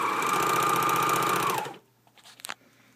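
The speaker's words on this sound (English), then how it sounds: "I put my presser foot back down and I serge off." A serger sewing machine serges off the fabric with a loud, close, rapid hum for about a second and a half, then stops, leaving a few faint handling clicks.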